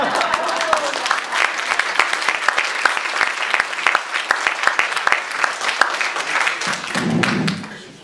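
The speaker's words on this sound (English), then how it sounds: "applause would be appreciated" An audience at a 2011 League of Women Voters election candidate forum claps for several seconds, with crisp individual claps spread through the room in a busy, sustained patter that fades near the end as a voice begins.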